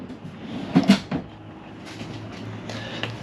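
A cabinet drawer is pulled and pushed, giving a couple of quick wooden knocks and a short slide, then quiet room tone.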